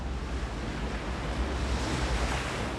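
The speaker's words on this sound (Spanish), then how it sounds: "Solo el océano." Open Pacific Ocean surf rolls in a dense, continuous wash, loud and broadband with wind buffeting the microphone and no voices.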